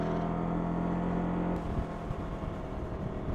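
A Can-Am Ryker 600 three-wheeled motorcycle cruises on a freeway, its engine droning and rumbling steadily up close before the tone drops and turns rougher partway through, with wind rush and no talking.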